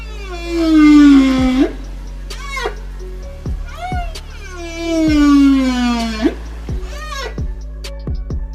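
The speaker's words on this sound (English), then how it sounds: "Whales communicate in songs and whistles, clicks." Two long, rising-and-falling whistling blue whale calls, loud and close, each followed by short swooping tones, with a low steady hum underneath.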